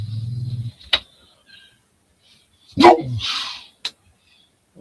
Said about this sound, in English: What's that little dog going on about?